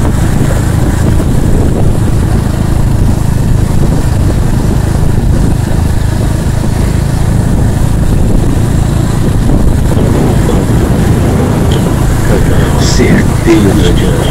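A steady motorcycle engine drone rumbles on continuously while riding a dirt road, with wind buffeting the microphone throughout and no break in the noise.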